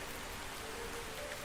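Steady rain falling in a video game, a soft continuous hiss of drops on surfaces, even and unbroken with no voices.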